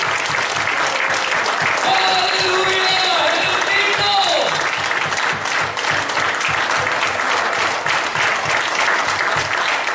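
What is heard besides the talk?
congregation clapping hands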